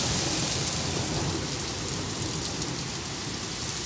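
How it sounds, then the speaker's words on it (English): Thunder rumbling under a heavy UK rainstorm that also brought hail, the dense loud hiss of pouring rain filling the whole moment while low rolls sit beneath it. "Thundering."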